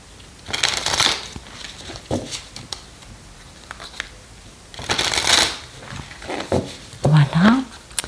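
Tarot cards shuffled for a reading, crisp riffling and flicking bursts up close, loud and repeated in several spells, with a voice speaking softly between them.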